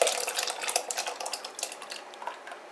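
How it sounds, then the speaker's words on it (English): Roast turkey drippings are poured from a hot roasting pan into another pan in a home kitchen, giving a steady liquid splashing and sizzling patter with light metal scraping, close and continuous with no talk. "So we're just going to pour that all in there."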